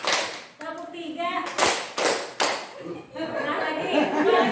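Children play a rhythmic counting clap game, with bursts of hand clapping and tapping arriving in short groups between spoken and chanted voices, loud and close.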